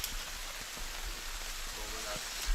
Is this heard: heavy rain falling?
yes